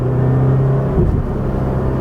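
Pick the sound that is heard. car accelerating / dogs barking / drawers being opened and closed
car accelerating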